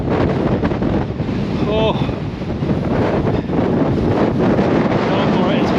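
Strong storm wind on open Dartmoor moorland, loud buffeting gusts roaring over the microphone without a break while a person speaks briefly beneath the noise.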